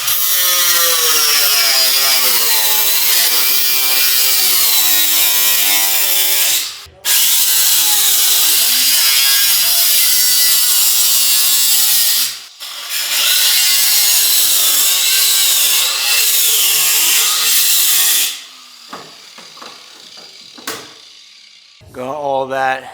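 A power cutting tool slices inner metal out of a car quarter panel, with three long, loud, whining cutting passes separated by brief pauses, then quieter intermittent tool noises near the end.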